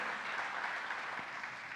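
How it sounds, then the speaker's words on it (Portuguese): Church congregation gives a short round of applause during a sermon, a moderately faint, even patter of many hands clapping at a steady level. "Dá um aplauso, pelo amor de Deus."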